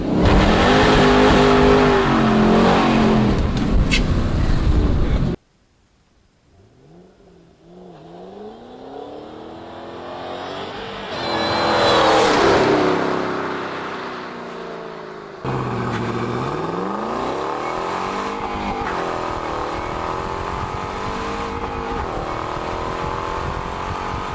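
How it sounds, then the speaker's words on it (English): A manual transmission car engine revs and changes pitch as it accelerates through gears, loud and close, with a quieter stretch before the engine climbs again. "If you want to know how to drive a manual transmission car"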